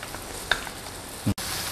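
Garlic sautés in a pan for anchovy pasta, giving a soft, steady sizzle close by, with a brief clatter midway and a short thump near the end.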